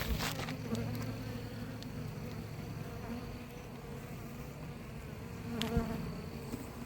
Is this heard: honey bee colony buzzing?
yes